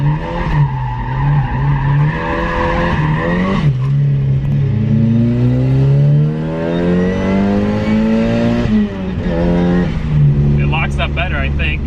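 Fast car with an upgraded differential accelerating hard, engine rising through revs with a brief gear-change dip, then climbing again as tires chirp near the end, loud and close from inside the cabin.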